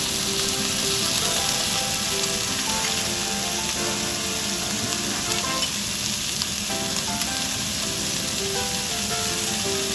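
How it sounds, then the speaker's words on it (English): Chicken wings fry in a pan with a dense, constant sizzle and crackle that stays loud and even for the whole stretch, with faint clinks of stirring and no voices. "Chicken wings don't need to be fried for too long"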